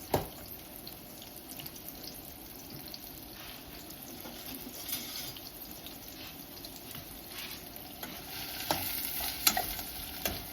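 Onions fry in a pan for capsicum tomato curry, stirred continuously: a dense, close sizzle with scraping and clattering that grows a little louder near the end, with no voices.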